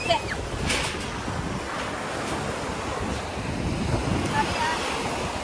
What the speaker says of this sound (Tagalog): Kusog sa hangin ba?